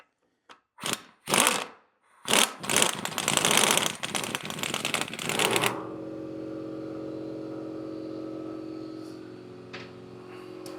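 An air compressor in a workshop, beside a Ford GPW WWII jeep project, runs with a steady, droning hum after several loud bursts of clattering and hissing at the start.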